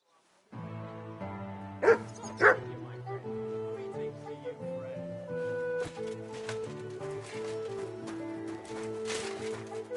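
A dog in the video game Kingdom Come Deliverance 2 gives two sharp barks close together near the start, set against steady in-game music, with people talking afterward.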